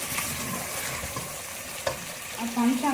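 Goat trotters for mutton paya fry over high heat, a steady close sizzle with scraping stirs throughout and a brief tonal squeak near the end.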